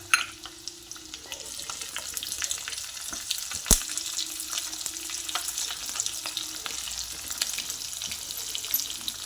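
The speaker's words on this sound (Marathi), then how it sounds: "सगळा लसूण लाल होऊन द्यायचा आणि हिंग घालायचा" Crushed garlic and green chilies frying in hot oil for a spinach dish, a steady close sizzle with crackles throughout.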